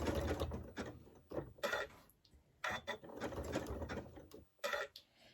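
A sewing machine runs a zigzag stitch on a fabric table runner, close mechanical whirring in several short bursts separated by brief pauses.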